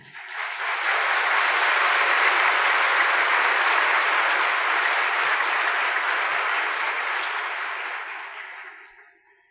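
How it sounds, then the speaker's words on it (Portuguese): An audience at a spiritual lecture gives a warm, sustained round of applause, a broad, steady roar of clapping that swells quickly, holds for several seconds and fades out at the end. "a eles vamos transmitir o nosso aplauso caloroso"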